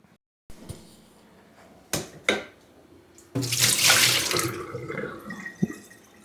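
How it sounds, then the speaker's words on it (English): Water gushes from a sink tap into a pot after a few clunks and knocks, running steadily for a few seconds before easing, with a clatter near the end. "We are now going to fill up the pot with water"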